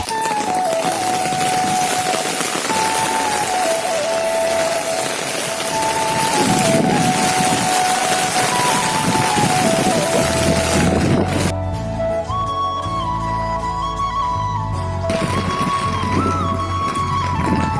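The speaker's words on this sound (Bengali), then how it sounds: "অনেক জোরে বৃষ্টি হইতেছে" Heavy rain and gusting wind roar steadily and loudly close by over a dirt road, a dense unbroken wash of noise that shifts in tone partway through, with no voices.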